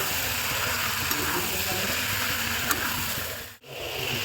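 Potatoes and fish frying together in a pan give a steady, even sizzle throughout, with a brief dip near the end.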